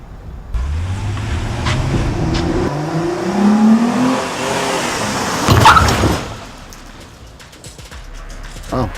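A car drives fast over road bumps, its engine rising and falling with thumps and jolts as the body rattles, loud and close from inside the cabin.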